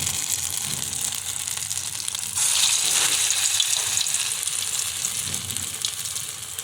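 Afternoon snacks frying in plenty of hot oil give a continuous loud sizzle and crackle that swells briefly partway through, close to the pan with no talking.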